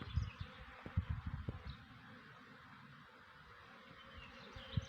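Bumblebees buzz around blueberry bushes in an apiary garden, a low droning hum that swells and fades in the near field, loudest at the start and again at the end, with faint rustling around it.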